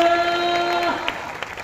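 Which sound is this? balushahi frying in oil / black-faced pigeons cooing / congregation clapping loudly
congregation clapping loudly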